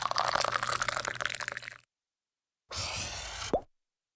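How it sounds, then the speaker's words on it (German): Coffee poured into a cup, a steady liquid stream for about two seconds, then a pause and a second short pour ending in a small splash, close and fairly quiet with no talking. "Wir füllen Kaffee in die Tassen."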